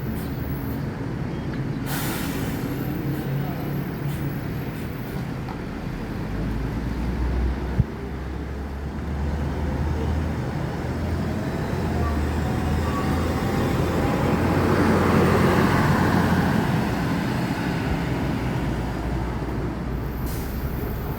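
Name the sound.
Bumarang Jaya bus passing on a Sumatra road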